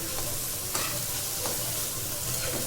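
Cashews sizzling and frying in a pan of hot oil for a paneer gravy, a steady loud crackle with a few soft stirring scrapes, no talking.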